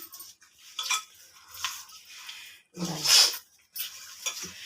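Chicken biryani ingredients are stirred together in a bowl, giving quiet scraping and clinking bursts of utensil against the bowl, separated by short pauses.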